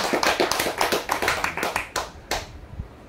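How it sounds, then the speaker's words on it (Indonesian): An audience clapping at a talk, a short burst of quick, close hand claps in a loose rhythm that thins out and stops after about two and a half seconds. "Tepuk tangan."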